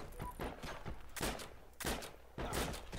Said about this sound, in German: warum schießt er denn auf mich